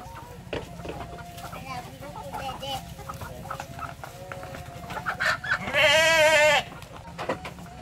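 Chickens cluck and squawk at feeding time in a rural yard, with scattered calls throughout and one loud, drawn-out bleating cry near the end, while people talk nearby.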